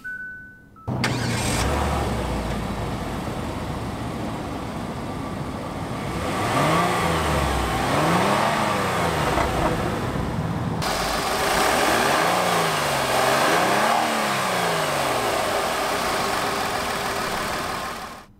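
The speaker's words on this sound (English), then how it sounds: "let's hear that engine for a moment" Engine of a 2017 Hyundai Santa Fe SUV idles, then is revved twice in two rising-and-falling surges before settling back to idle. Close and fairly loud, with no talking.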